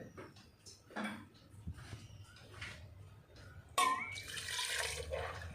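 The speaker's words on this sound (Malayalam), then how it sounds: "കണ്ടോ നെകയ്ക്ക് വെള്ളം ഒഴിച്ചു" Water splashes and pours over vegetable pieces in a cooking pot, first in short trickles, then a louder, sustained gush; no one speaks.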